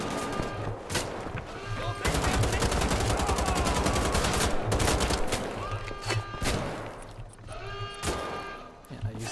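Rapid bursts of automatic gunfire in the shooter game Wolfenstein: The Old Blood, loud and sustained across most of the stretch with brief pauses and single shots, over dense battle noise and occasional voices.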